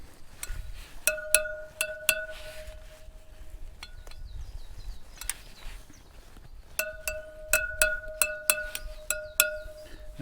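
Metal wheel spokes on a KTM 890 Adventure R motorcycle are tapped one after another, each giving a bright ringing ping, in two quick runs separated by quieter handling and faint wrench noise.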